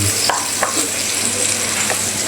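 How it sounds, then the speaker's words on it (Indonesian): Crispy chicken pieces frying in hot oil, a loud steady sizzle and bubbling throughout with a few faint stirring clinks, no voices. "Kita goreng lagi."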